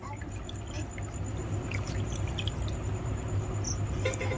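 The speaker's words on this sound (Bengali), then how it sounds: "দেখুন, এবার আমি ঠান্ডা জল দিয়ে ছানাটাকে এভাবে ধুয়ে নেব" Cold water runs over freshly strained chhana, vinegar-curdled cottage cheese, as it is rinsed: a steady, even wash of splashing and trickling with a faint low hum underneath, continuous throughout.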